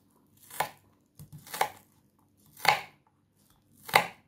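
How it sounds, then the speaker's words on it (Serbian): Knife chopping onion into small cubes on a board, four distinct crisp chops spaced about a second apart, close and clear with no talk. "Luk seckam u sitne kockice."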